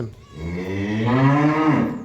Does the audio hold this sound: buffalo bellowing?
yes